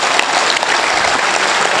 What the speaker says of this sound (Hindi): कम तालियां हैं साहब